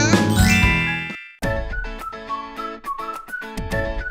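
A bright bell-like notification jingle with tinkling chimes plays loudly, followed by a sequence of melodic dings and pings in a short cheerful tune.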